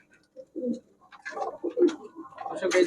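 Giribaz pigeons, high-flyer and racer stock, coo in a series of close, throaty bursts, growing busier toward the end with some rustling nearby.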